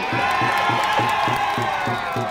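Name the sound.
street crowd clapping and cheering for band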